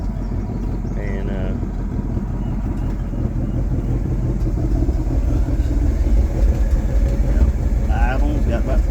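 A 1964 Chevy C50 truck with a V8 and four-speed idles steadily nearby, its low even rumble running throughout while someone speaks briefly over it.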